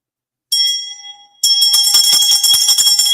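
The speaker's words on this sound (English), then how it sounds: "I'm going to ring your testing victory bell in advance." A victory bell rings out loud and close, one struck tone decaying, then a second burst of rapid repeated clanging that rings on bright and sustained, with no talking.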